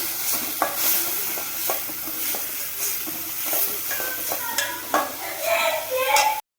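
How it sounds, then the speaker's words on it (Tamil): Ground shallots frying with ginger-garlic paste in a pan for prawn curry, a continuous close sizzle with a spoon scraping and stirring, loudest near the end before it cuts off abruptly. "வெங்காயம் வணங்கிட்டு இருக்கும் போதே தேவையான அளவு இஞ்சி புள்ளி பேஸ்ட்டையும் அதோடு சேர்த்து நல்லா வதக்கணும்"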